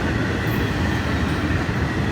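An FEC freight train, number 101, rolls past near Stuart heading for Miami, a loud, steady roar of rail cars and wheels filling the whole moment without pause.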